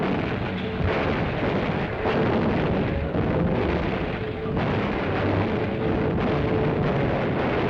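US Navy guns firing on the Marshall Islands during World War II, heard as a dense, continuous rumble of heavy blasts with repeated booming surges, recorded on an old, noisy film soundtrack with no voices.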